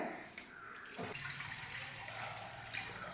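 Water is poured into a ground mixture for a thickening preparation, a soft, faint splashing and trickle that starts after a brief knock and continues quietly to the end.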